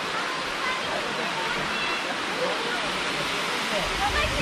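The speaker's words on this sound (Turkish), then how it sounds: "Bu şelalelerinden biri" Waterfall at Tatlıca waterfalls nature park in Erfelek, Sinop, Turkey, giving a continuous broad rushing hiss of falling water that stays steady throughout and fairly close.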